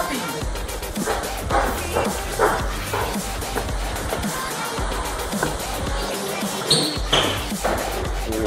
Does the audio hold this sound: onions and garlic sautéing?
no